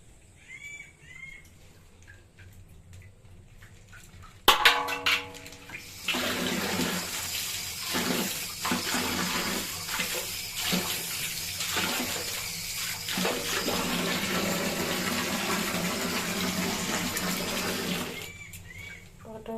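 Running tap water splashes steadily over cut Malabar spinach being washed, a continuous close rush with handling pulses, after a quiet start and ending abruptly.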